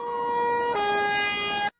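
Fire truck siren wailing at close range as crews arrive at a burning museum in Brazil, a loud steady tone that steps up sharply in pitch partway through and then cuts off abruptly.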